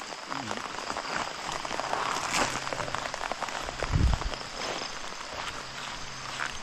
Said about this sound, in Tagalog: Alam, ang ulan.